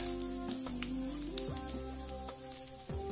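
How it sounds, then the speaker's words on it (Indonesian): Garlic frying in a dry pan with no oil, a steady bright sizzle that continues without pause throughout, with no voices over it. "Masak bawang putihnya sampai harum aja, jangan sampai berwarna coklat."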